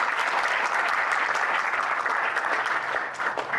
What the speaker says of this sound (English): why don't we give a round of applause for that?